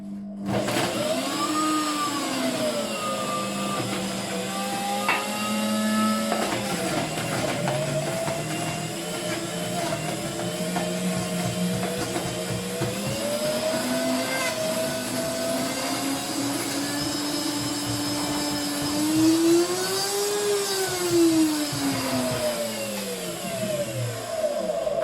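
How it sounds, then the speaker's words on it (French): A blender whirs loudly and continuously as it mixes coconut ice cream, its motor pitch rising and falling as the load shifts, with no voices. "Allez, c'est parti pour le mixage."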